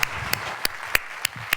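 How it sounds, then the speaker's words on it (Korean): A church congregation claps at a thanksgiving service, with sharp, loud, evenly spaced claps roughly every third of a second ringing through the hall. "박수로 하나님 앞에 영광을 돌려드리겠습니다"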